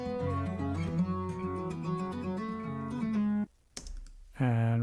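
A clav-like electric guitar part plays with its pattern gate bypassed, a bright, choppy funk riff of rapid plucked notes for about three and a half seconds, then a short pause and a sustained chord.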